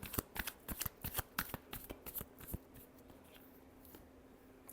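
Tarot cards are shuffled up close in a quick run of about a dozen crisp riffling slaps over two and a half seconds, followed by near-quiet with faint handling.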